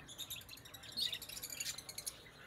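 Many small caged finches and other birds chirp and tweet continuously at a bird market in Rawalpindi, a dense, fairly faint chorus of high twitters with no talk over it.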